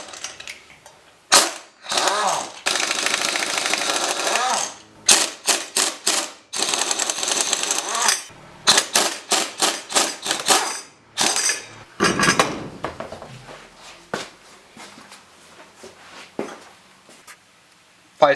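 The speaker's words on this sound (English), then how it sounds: "Vice grip on the shock, socket up top, ratchet these things off." A ratchet and socket work loose the shock absorber bolts on a truck being prepped for drag racing. Sharp metallic clicks and clatter come in bursts close up, mixed with bangs and stretches of noisy tool handling.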